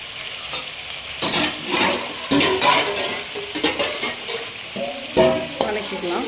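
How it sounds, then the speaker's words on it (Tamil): Onion and tomato go into hot oil for ghee rice, setting off a loud, bursting sizzle that keeps crackling, with occasional stirring and clinks of a utensil against the pan and no one talking. "எண்ணெய் நல்லா காஞ்ச உடனே நம்ம வந்து பார்த்திங்கன்னா ஆனியனும் தக்காளியும் போட்டுடலாம்"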